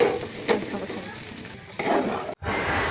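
Eggplant slices fry in plenty of oil with a continuous close sizzle and crackle, briefly dipping and cutting out for a moment before the hiss resumes.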